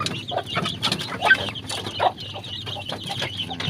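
Free-range village chickens in a backyard cluck continuously, with many overlapping clucks from a small flock at close to moderate distance and no other sound above them.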